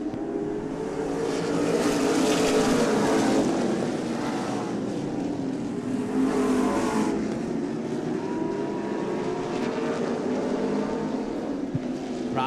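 Late model sportsman race cars lap a speedway oval in a steady, loud engine roar, rising and swelling as the pack sweeps past, with continuous distant racing drone throughout and no voices.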